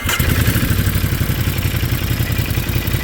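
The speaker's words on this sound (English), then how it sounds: "You can hear in the video a rattling sound. That's because usually Ducatis are using what's called dry clutch." Ducati Monster 937 idling close by, a steady throbbing engine beat overlaid with the metallic rattle of its dry clutch, loud and continuous, no talking.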